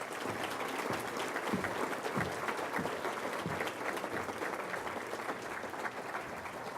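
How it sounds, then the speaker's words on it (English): An audience at the 2017 Poinsettia Awards ceremony applauds the award recipients with a steady, dense wash of clapping that holds evenly throughout, with no voices over it. "So let's give all of our recipients another round of applause."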